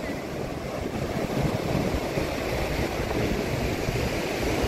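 Sea waves at Varsova beach in Mumbai, a continuous broad wash of surf close to the water's edge, steady and fairly loud, with some wind rumble on the microphone.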